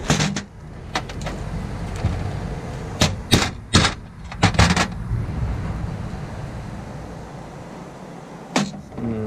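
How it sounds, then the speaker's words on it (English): Several sharp metallic hammer blows ring out in irregular bursts, a few clustered together, then a pause and one more strike near the end, hammering a hot melted part out of a Mercedes. "if we can hammer that out of there now."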